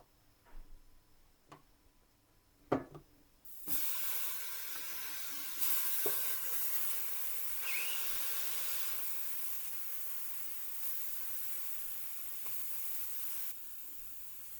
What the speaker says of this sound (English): We are gonna fry a few slices of mushroom on the pan